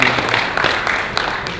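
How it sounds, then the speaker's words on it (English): Audience applause at a National Diaspora Day 2019 session, a steady wash of many hands clapping, moderately loud and continuous with a few sharper claps standing out. "Clap for Federal Ministry of Health,"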